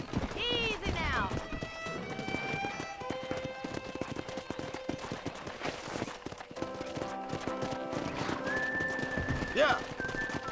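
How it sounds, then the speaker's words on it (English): Wild horses whinny and hooves clop in a busy Red Dead Redemption game soundscape, a loud neigh near the start and another late, with music and voices underneath. "there's a pack of wild horses nearby"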